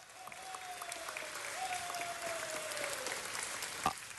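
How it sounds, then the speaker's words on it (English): A round of applause for a city council member in a council chamber, steady moderate clapping from the audience, fairly distant and soft, with a voice speaking over it and a brief sharp knock near the end. "let's give him another round of applause while we're here"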